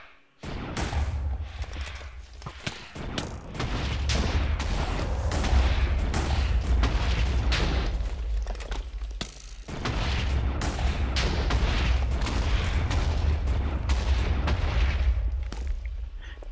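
Repeated gunfire from a handgun in the Minecraft Hexxit modpack, loud and sustained across the clip with many sharp shots and booming bursts, a short break near the middle, no talking.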